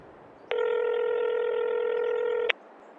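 A telephone dial tone sounds as a call to a farm machinery dealer is placed: one loud, steady, close tone lasting about two seconds, starting and stopping sharply, with nothing else heard.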